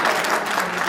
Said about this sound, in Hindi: इसके लिए एक जोरदार तालियां बजाइए।